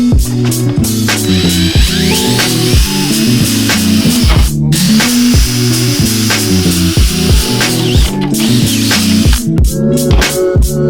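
A power drill bores corner holes through a metal PC case panel, giving a loud continuous buzzing, rattling drone with repeated pulsing bursts and short breaks throughout, close up with no voices.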